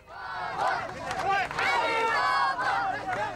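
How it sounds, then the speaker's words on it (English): A crowd in Basra during looting in the Iraq war chants Alibaba, loud overlapping voices and shouts pulsing in a rhythmic chant, close and dense throughout. "the crowd chant Alibaba"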